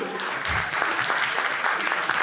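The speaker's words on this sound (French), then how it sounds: "vous pouvez applaudir, vous pouvez vous applaudir" A film festival audience in Mantes claps in a brief, dense burst of applause that stays even and steady from start to finish.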